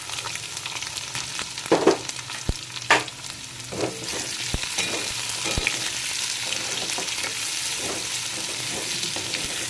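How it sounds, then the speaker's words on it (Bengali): Onions fry in hot oil with tempered whole cumin and spices for chicken curry, a steady crackling sizzle with intermittent spatula scrapes and clicks against the pan. "এবার দিয়ে দেবো পেঁয়াজ।"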